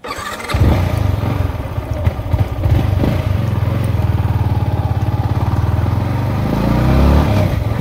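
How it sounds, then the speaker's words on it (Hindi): A Yamaha MT-15 motorcycle starts and pulls away close by, its engine loud and steady with a regular throb that rises toward the end as it is ridden. "गाड़ी चला के देखते हैं गाड़ी चलने में कैसी है"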